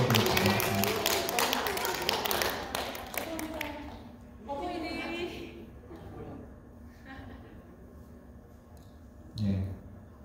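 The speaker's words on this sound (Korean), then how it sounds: "박수로 우리 한번 축하를 해드리겠습니다" A church congregation applauds to celebrate Mother's Day, with a dense patter of clapping that fades out after a few seconds, followed by quieter room sounds and a few scattered taps.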